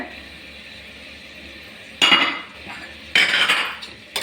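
A spoon scrapes around a pot while vegetable pulao with green peas, beans and sliced potato is stirred, in two loud, drawn-out metallic scraping bursts and a brief third one over a quiet background, with no voices.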